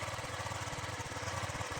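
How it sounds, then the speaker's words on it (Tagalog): A motorcycle engine idling after an oil change, a steady low rhythmic putter that holds an even beat and stays fairly quiet, with no one talking over it. "Tingnan yung tulog ng makina"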